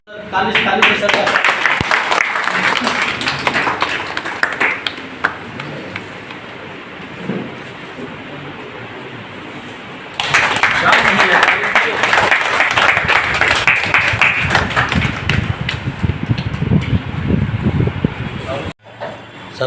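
Bursts of group applause welcoming everyone at an office Gandhi and Shastri Jayanti celebration, dense and rain-like. A strong burst gives way to a quieter stretch before clapping swells again, with voices mixed in, and it ends abruptly.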